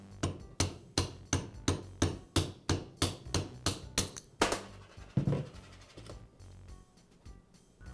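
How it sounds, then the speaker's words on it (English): Rubber mallet tapping a Makita multi-tool armature off its bearing, about fifteen evenly spaced sharp knocks at a brisk rhythm, then a few looser taps and handling sounds as it frees. "use a rubber mallet to tap the armature away from the bearing"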